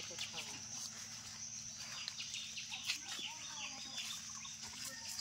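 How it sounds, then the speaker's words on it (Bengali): Chickens clucking at a village home, soft scattered clucks and calls heard at a distance among background voices and outdoor noise. "এই দেখ মুরগিগুলো কোথায় এসছে রে"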